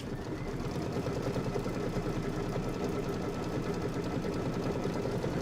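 An embroidery machine stitches a Kimberbell Hello Sunshine applique block in a fast, steady mechanical chatter that runs on evenly and fairly loud, with no voices.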